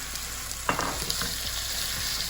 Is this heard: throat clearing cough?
no